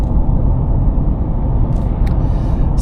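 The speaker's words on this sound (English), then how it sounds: "I'm pretty sure you guys can hear the tire roar" Continuous broadband road roar from tires, loud and steady inside a moving 2025 VW Amarok 2.0 TDI, with a couple of faint brief clicks.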